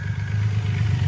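A Triumph Rocket 3R with its 2500cc engine idles nearby in a brief, steady, low mechanical hum that holds level and even.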